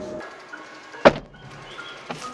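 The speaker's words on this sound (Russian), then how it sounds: "Двери, конечно, брямкают" A Wuling Mini EV car door slams shut once with a sharp, loud thunk near the middle, a second lighter knock following shortly after over quiet background.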